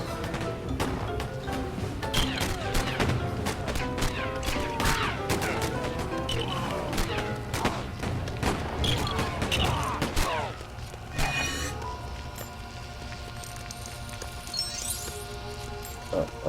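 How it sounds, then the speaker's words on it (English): Gunfire in a LEGO Batman video game, dense bursts of rapid shots and clattering impacts over game music, loud and continuous before easing to a quieter ambient stretch near the end. "We just gotta dodge all these bullets."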